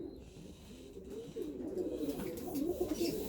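Domestic pigeons coo softly nearby in a loft, low rolling calls repeating under faint background noise.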